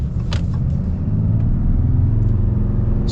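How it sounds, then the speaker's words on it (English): A 2021 Ram 2500 Laramie pickup truck engine under full acceleration, a loud, deep, continuous rumbling roar that builds steadily, close up inside the cab, with no talking. "now let's get our full-blown acceleration here"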